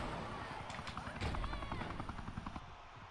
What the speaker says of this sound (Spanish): menos mal que se ha callado el helicóptero